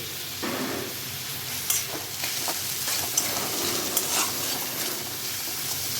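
Chopped onions frying in hot oil, with a little salt added, give a steady close sizzle, broken by stirring scrapes and small clicks from the spoon and pan, with no talking.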